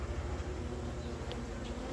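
Honey bees on a hive frame give a close, steady, low buzzing hum that holds evenly throughout the short moment, fairly faint and with no talk.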